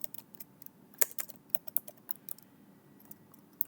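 Quick, close tapping on a computer keyboard while working in TIA Portal software, irregular bursts of keystrokes with a few sharper clicks over a low room hum.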